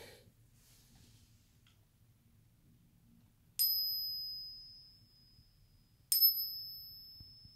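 A 1901 Russian one-rouble silver coin stood on its edge and struck with another coin, giving two sharp metallic pings that each ring out with a long, slowly fading sustain in near silence.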